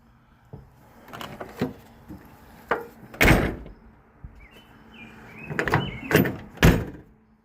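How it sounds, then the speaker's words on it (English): A 1986 Camaro's car door shuts with a solid thump among several nearby clicks and knocks, one sharp slam standing out amid scattered handling sounds, no talking. "Door shut's easier now that"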